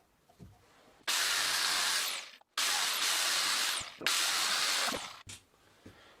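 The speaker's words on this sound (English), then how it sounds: "The grease is boiling." Hot grease boiling and hissing loudly in three long sizzling bursts while a pressed-in bicycle bottom bracket is worked on, each cutting off abruptly, with quiet gaps and faint clicks between them.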